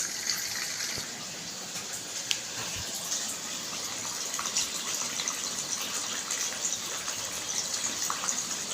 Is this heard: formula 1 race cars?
no